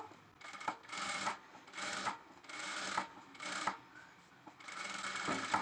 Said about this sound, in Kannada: ಮೇನ್ ಕ್ಲಾತಿಗೆ ಮತ್ತೆ ನೀಟಾಗಿ ಹೊಲಿಗೆ ಹಾಕ್ಕೋಬೇಕು